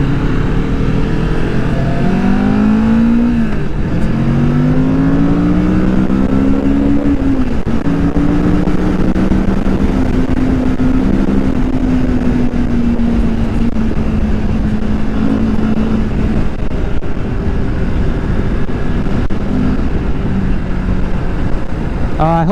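A 2022 Kawasaki Vulcan S cruiser motorcycle with a quiet stock exhaust rumbles steadily with several rising revs, heard up close against heavy wind or road noise that partly masks the engine.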